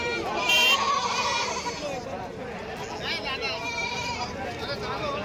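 Goats bleat repeatedly at a busy Dhule goat market selling local Gavran breed goats, with a loud cry near the start and more calls throughout over steady crowd chatter and background voices.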